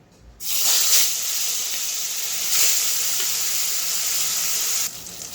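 Hilsa fish tails dropped one by one into hot refined oil in a wok, a loud steady sizzle and hiss that starts abruptly, swells twice as more pieces go in, then drops at the end.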